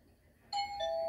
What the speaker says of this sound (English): I'm gonna ring on my own doorbell.